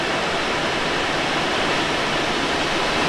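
Strong wind rushes past a Blanik L-13 glider in flight, a dense, unbroken roaring hiss that stays loud and even throughout, with no voices.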